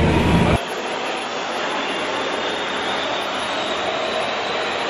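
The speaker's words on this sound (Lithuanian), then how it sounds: "mes skrendam su tokiu mažučiu lėktuvėliu" Steady broadband engine drone fills the cabin of a small Motor Sich airline airplane in flight, loud and constant after a brief louder burst at the start.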